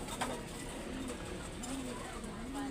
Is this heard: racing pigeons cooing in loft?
yes